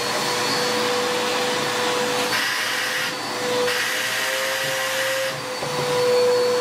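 A vacuum cleaner runs steadily with a constant high-pitched whine and airy roar, its pitch and loudness shifting slightly a few times as it moves, with no talking over it.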